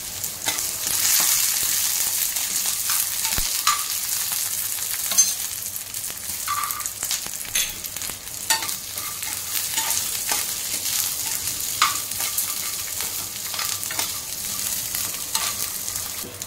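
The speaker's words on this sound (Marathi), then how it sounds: "चांगल्या तेलामध्ये भाजून घ्यायचं आहे।" Cumin and other ingredients fry in oil in a pan, a continuous bright sizzle with scattered pops and occasional clinks of stirring, close and steady throughout.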